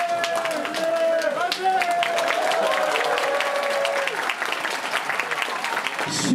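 Guests at a traditional Korean wedding ceremony clap loudly and continuously, a dense, sustained round of applause with an officiant's voice heard above it, ending with a brief louder sound.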